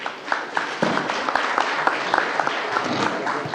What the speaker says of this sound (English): Will you come forward and give her a round of applause